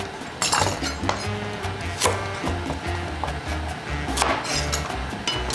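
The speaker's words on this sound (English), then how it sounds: "we are going to continue chopping the carrots." A knife chops carrots on a cutting board as Mexican chicken soup is prepared, with a run of sharp, close clinking taps at an uneven pace over a low background hum, no talking.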